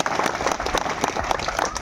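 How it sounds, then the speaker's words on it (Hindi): Audience clapping during a Navratri puja for Kashi Das Baba: dense, steady applause from a crowd, loud and continuous throughout with many overlapping claps. "ताली बजा दे बात"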